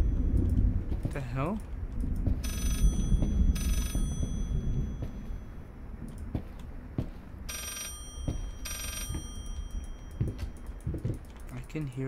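A telephone rings in the horror video game Layers of Fear, with several bursts of bright electronic ringing over dark ambient rumble and scattered creaks, while someone talks at times.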